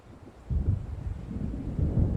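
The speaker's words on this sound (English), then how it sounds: "It seems there's a storm coming." Low, rolling thunder from an approaching storm in the video game Alan Wake rumbles continuously and fairly loud, swelling in waves without any voices.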